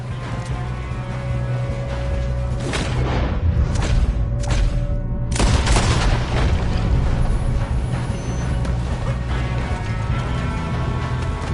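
Gunshots and blasts in the video game Red Dead Redemption 2, several sharp cracks at about three, four and five seconds, standing out over a steady loud game rumble.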